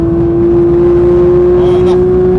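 A Porsche 992 GT3 with a manual gearbox accelerates hard around the Dijon-Prenois circuit, its engine giving a loud, steady, rising tone heard from inside the cockpit for a couple of seconds.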